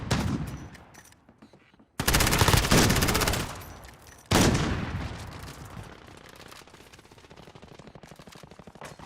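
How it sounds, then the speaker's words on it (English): Rapid bursts of submachine gun fire from a video game ring out loud and close, with a sharp onset around two seconds, another strong burst near four seconds, then steadier fire trailing off. "submachine guns can be pretty cool"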